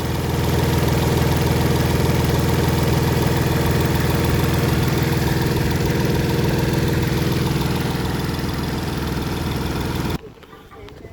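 A 2017 Hyundai Grand i10 diesel engine idles with a steady low rumble and vibration, then cuts off abruptly near the end, leaving near silence.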